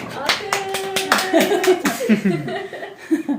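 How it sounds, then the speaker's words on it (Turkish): Hand clapping at a home birthday celebration with cake, a few quick claps mixed with laughter and chuckles, up close, with people chatting over it. "Alkış, alkış"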